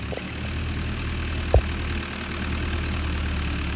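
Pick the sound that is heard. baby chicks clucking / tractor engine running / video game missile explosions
tractor engine running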